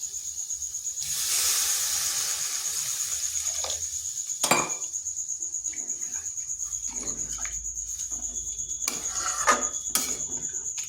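Water poured into a hot pan of jackfruit curry gives a brief hissing sizzle near the start. It is followed by scattered metallic clinks of a utensil against the pan, with one sharper clank in the middle.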